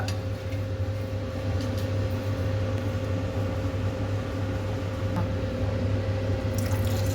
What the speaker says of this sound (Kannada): ನೀರು ಹಾಕ್ಕೋಬೇಕು. ಅದು ಸ್ವಲ್ಪ ಲಿಕ್ವಿಡೇ ಆಗಬೇಕು.